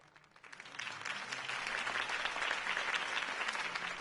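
Applause from a campaign rally crowd follows a mayoral candidate's speech, building from scattered claps into steady, sustained clapping that stays fairly distant and fills the whole stretch.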